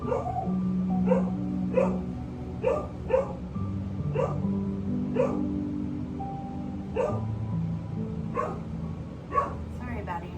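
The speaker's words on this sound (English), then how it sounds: "Barking." A dog barks repeatedly in short, evenly spaced yaps over a low steady hum, with occasional whimpers between barks.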